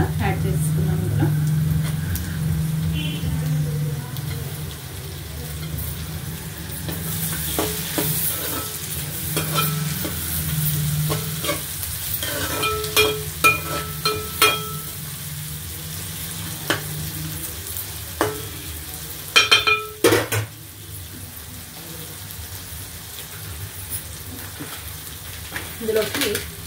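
Onions and tomato pieces fry in a pan with a constant sizzle while a spoon scrapes and stirs them in irregular bursts, close up, with a few sharp clinks against the pan.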